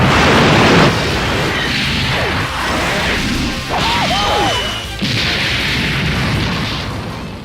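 Constant loud smashing, crashing and whooshing impacts from a Dragon Ball Z fighting video game, dense and layered with booming hits and swishes throughout.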